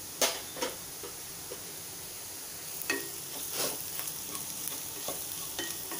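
Chopped onion sautés with turmeric and asafoetida in a pan, a soft steady sizzle broken by a few sharp spatula scrapes and clinks against the metal. No one speaks.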